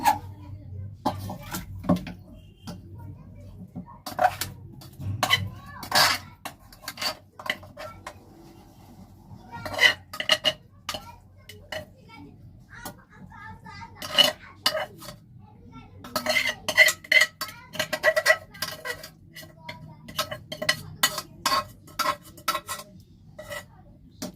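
Cooked fish roe poured from a pressure cooker into a bowl, heard as scattered metallic clinks, scrapes and clatters of pot and utensils, with quiet gaps between the bursts.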